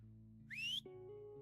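A single rising whistle sounds outside in the medieval Slovak video game Felvidek, lasting under half a second over a steady low musical drone.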